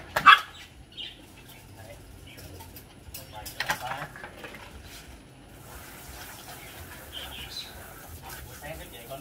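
Dogs during bathing at a pet shop: a sharp yelp or bark at the start and another burst a few seconds later, amid splashing water, clatter and faint background chatter and bird calls.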